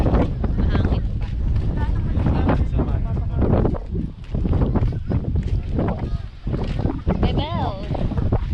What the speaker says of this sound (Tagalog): Ang lamig ngayon. Mahangin pa.